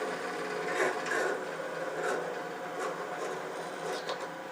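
Wood lathe slowed down to part off a turned one-piece snowman ornament, with a continuous whirring hum and scraping cuts rising and falling, close, with no talk.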